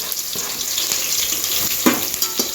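Chopped onion dropped into a hot cumin and mustard seed tempering in oil, frying with a steady hiss and a few sharp pops and clinks from a spoon, close by, with no talking.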